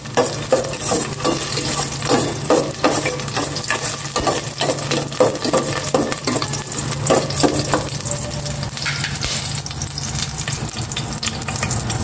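Garlic sizzling in hot cooking oil for a vegetable dish, with a loud continuous frying hiss broken by scraping stirs of a utensil against the pan, close and without talk.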